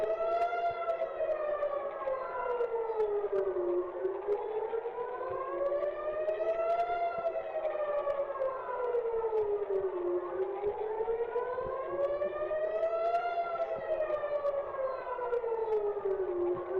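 An air raid siren in Tel Aviv wails steadily, its pitch rising and falling in slow, regular sweeps about every six seconds, loud and continuous with no voices.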